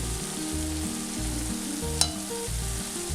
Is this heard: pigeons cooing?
no